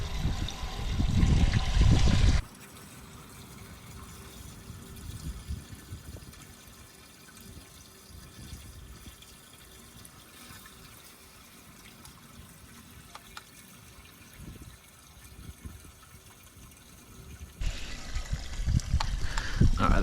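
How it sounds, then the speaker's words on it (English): Water from a running tap trickles and splashes into a septic tank to simulate a flush, a steady thin flow lasting many seconds between louder bursts of nearby noise at the start and end. "we're going to run some water in here and let it run into the septic tank."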